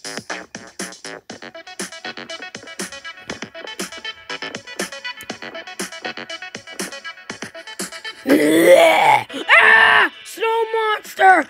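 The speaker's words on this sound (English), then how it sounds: "That's a legit snow monster." A snow monster lets out deep, drawn-out groans and growls near the end, loud and close, after a stretch of sharp, clicky rhythmic sounds; no words are spoken.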